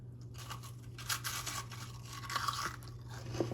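Crunchy toasted sourdough bread, fresh from the oven and dipped in a Greek yogurt Mediterranean dip, is bitten and chewed up close, giving a run of dry crackling crunches over a faint steady background hum.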